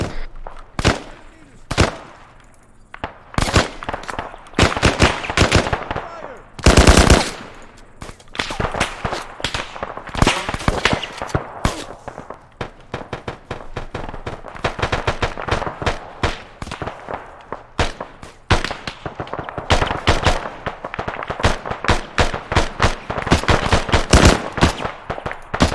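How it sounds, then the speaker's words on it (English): Gunfire from a military shooter video game: dense, loud bursts of automatic and single shots, with one heavy blast early on and near-constant firing throughout. "There is some covering fire, Viper."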